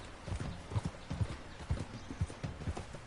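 Horse hooves clip-clop at a steady riding pace in the video game Red Dead Redemption 2, with a hog-tied passenger on the horse's back; the rhythmic, fairly quiet thuds continue for about three seconds.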